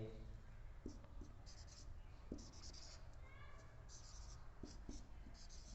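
Marker or chalk writing out a set on a board during a Class 9 math lecture on binary relations, continuous scratchy strokes under a steady background hum with a voice speaking alongside.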